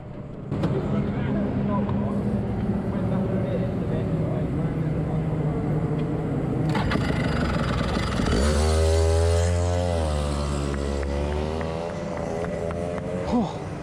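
A racing kart engine runs in the pit lane with a steady buzzing drone, then revs up and down in rising and falling sweeps near the end while people talk over it.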